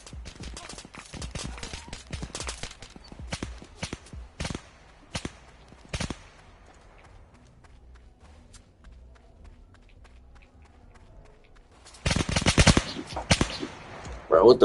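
Rapid bursts of gunfire in the Roblox game Tha Bronx 3 crack out in uneven clusters, some single shots spaced apart, then a dense loud volley near the end.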